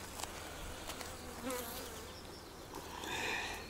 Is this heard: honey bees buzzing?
yes